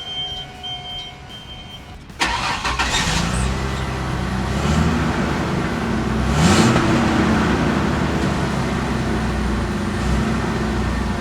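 A 1996 Ford F150 XLT pickup's engine hums steadily while driving, a smooth, fairly quiet drone that swells slightly after the first couple of seconds and holds, with a faint rise around the middle.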